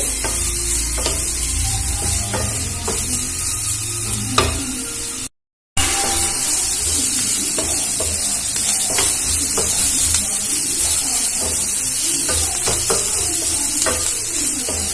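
Grated carrot fries and is stirred in a pan for a Bengali snack, giving a steady loud sizzle with repeated scraping stir strokes and a brief dropout near the middle.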